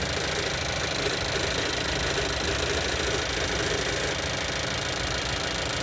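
A Mazda CX-5 engine idling cold with a knocking fault, a continuous close mechanical drone with fine rapid ticking running evenly throughout, no voices.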